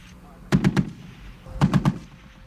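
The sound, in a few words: heavy machine gun firing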